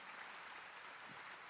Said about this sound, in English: let's give Dr. Anda another round of applause for that outstanding